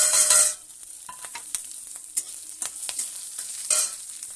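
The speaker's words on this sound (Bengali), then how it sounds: "ওই কড়াইতে দিয়ে দেবো তেজপাতা, শুকনো লঙ্কা, 5 ফোঁটা।" Bay leaves and dried chillies drop into hot oil in a kadai with a loud burst of sizzle, followed by quieter crackling and spatula scrapes.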